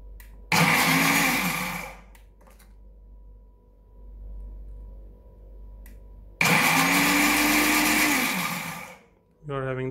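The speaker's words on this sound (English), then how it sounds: "let me show you the demo of this jug or blender with a pulse setting first" Kenwood FDM307SS food processor blender jug run on its pulse setting: two loud whirring bursts of about two and four seconds, separated by a quiet gap with faint room noise.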